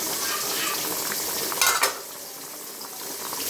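Fish frying in a pan on a gas stove sizzles in a steady, close hiss, with a brief clatter of a utensil stirring partway through.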